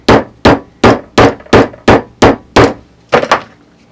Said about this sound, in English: we're going to hammer it flat